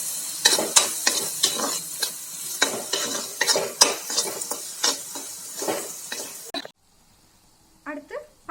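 Chilli powder and garam masala stirred into a frying pan for paneer bhurji, brisk rhythmic scraping strokes over a sizzle, then a sudden drop to near silence with a few faint clinks.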